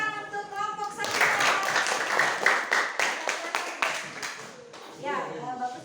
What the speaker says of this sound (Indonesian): Nah, tepuk tangan untuk kelompok Safira